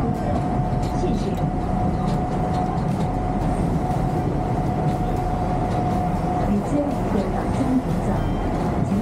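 A Hong Kong train slowing to a stop, heard from inside the carriage as a steady, loud rumble with a faint whine, and indistinct voices under it throughout.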